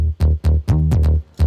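Dry electronic bass from a dance track remake, heard undistorted: a rhythmic run of short, deep, punchy notes with brief gaps between them, loud and alone.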